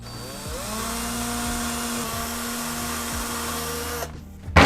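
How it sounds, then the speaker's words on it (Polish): A small power drill with a small bit whirs steadily at a high pitch drilling screw holes in plywood, its motor dipping briefly as it bites, then stops with a short clatter. "dzięki której możemy nawiercić otwory na śrubki"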